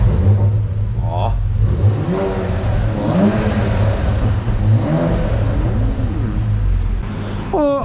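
A car engine fitted with an Alpha X1 exhaust muffler revs loudly and steadily, its rising and falling roar filling the whole stretch, with a brief sharper rev near the end and people talking underneath.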